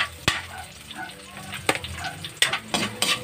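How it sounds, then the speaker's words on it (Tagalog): Food frying in a noisy pan, a steady hiss of sizzling punctuated by sharp metallic clanks and scrapes as a utensil stirs and knocks against the pan, close up with no talking. "Kailangan tumutunog ang kawali."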